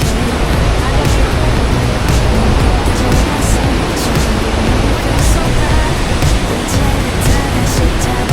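A waterfall pounds down in heavy, drenching spray close by, a loud unbroken roar of crashing water with no pauses.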